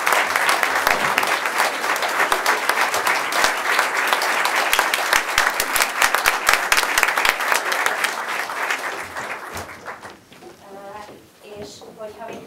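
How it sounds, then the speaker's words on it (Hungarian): An audience applauds a theatre company with dense, sustained clapping for several seconds, which fades toward the end as a voice begins talking. "Nagyon szépen köszönjük a társulatnak, szerintem tapsoljuk meg"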